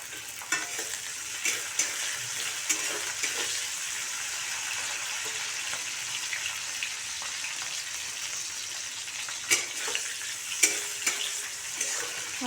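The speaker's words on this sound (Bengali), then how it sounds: "আবার এগুলো সব একসাথে 2 মিনিট নাড়াচাড়া করে নেব।" Capsicum and mixed vegetables for vegetarian chowmein sizzle steadily in a hot pan, with recurring scrapes and clatters of stirring throughout and no talking.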